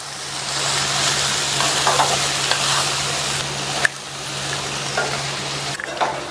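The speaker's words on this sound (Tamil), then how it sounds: "நம்ம சேர்த்த மசாலா இந்த எல்லா பிரெட் பீசஸ்லையும் நல்லா கோட் ஆகுற மாதிரி இந்த மாதிரி கிண்டி" Toasted bread pieces coated in masala are stirred in a pan, a steady sizzling hiss with scraping strokes and one sharp clink near the middle, continuing alone without any voices.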